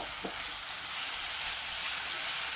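Tomato gravy with a spoonful of sugar, for paneer mushroom masala, frying in a pan with a bright, steady sizzle and a few light stirring clicks, close and continuous.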